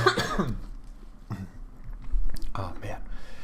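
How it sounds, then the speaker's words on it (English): A person coughs in a short rough fit, a couple of harsh bursts close to the mic with faint room noise between them. "Oh man, I just can't stop coughing"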